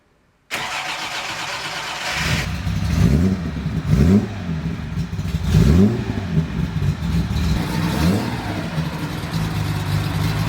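A car engine cranks and catches after its fuel is primed, then revs in several quick, loud throttle blips that rise and fall over a rough idle.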